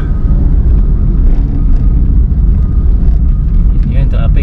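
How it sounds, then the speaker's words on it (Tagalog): Dense traffic jam on a congested city road, cars and engines idling and creeping in a steady, loud low rumble, with a voice talking over it. "Yun yung traffic oh."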